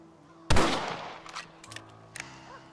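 A single sharp rifle shot in the western game Red Dead Redemption cracks loudly and decays into a short echo, followed by a couple of fainter distant pops.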